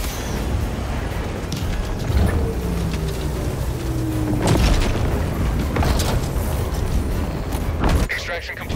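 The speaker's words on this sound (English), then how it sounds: "Throwing grenade!" Deep booms and rumbling blasts from a grenade in Helldivers 2, set against mechanical whirring of a landing craft, with a strong burst midway and voices talking over the din.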